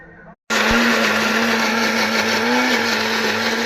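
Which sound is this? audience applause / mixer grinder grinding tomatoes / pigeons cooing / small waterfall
mixer grinder grinding tomatoes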